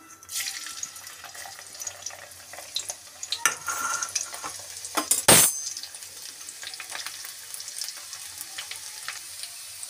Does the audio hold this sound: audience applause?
no